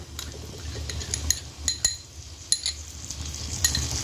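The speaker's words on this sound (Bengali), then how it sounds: "নেড়ে নেব ভালো করে।" A spoon stirs ground tomato paste into spiced cumin rice in a pan, with repeated metallic scrapes and clinks over a faint sizzle, close and clear, with no one talking.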